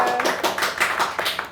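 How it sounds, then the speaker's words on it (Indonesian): Audience applause after a talk show conversation, a dense burst of clapping hands close and loud, rising and falling in waves without speech. "Kita berikan tepuk tangan untuk kita semua"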